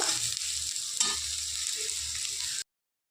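Taro and potato pieces sizzle loudly in hot oil in a village-style Bengali kitchen, a dense, continuous frying hiss for under three seconds that then cuts to silence.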